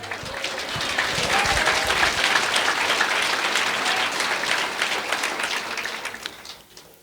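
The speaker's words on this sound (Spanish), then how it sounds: "Fuerte aplausos a Cristo Jesús." A church congregation applauding during a service, dense and sustained clapping from many hands that holds steady, then tapers off at the end.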